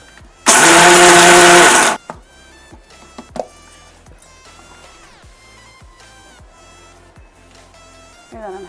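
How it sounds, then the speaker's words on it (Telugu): A kitchen mixer grinder whirs loudly as it grinds coconut in one burst of about one and a half seconds, then stops, leaving faint clinks and handling noises. "ఇవి కొబ్బరి, ఇవి ఒకసారి మిక్సీ చేద్దాము."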